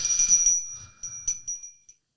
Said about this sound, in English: you can ring Pavlov's bell then